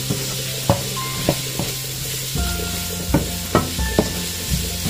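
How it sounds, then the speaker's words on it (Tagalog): Onion and garlic frying in a pan with a fairly loud, steady sizzle, broken by several sharp clicks and scrapes of a utensil stirring against the pan, no talking. "Ayan mo munang maluto yung sibuyas bawang."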